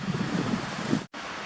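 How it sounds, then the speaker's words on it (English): Strong wind buffets the microphone in a loud, rushing roar on a mountain hiking trail in Rocky Mountain National Park, briefly cutting out for a split second before resuming. "it is windy today."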